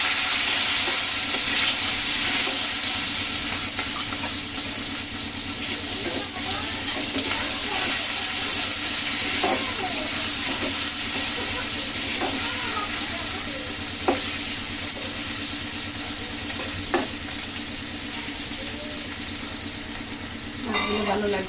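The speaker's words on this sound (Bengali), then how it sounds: "মাছগুলো প্রথমে ভেজে নেব। তেলের ভিতরে একটু হলুদ দিয়ে দিয়েছিলাম" Fish frying in hot oil with a little turmeric, a loud continuous close sizzle that stays steady throughout, broken by a couple of faint clinks.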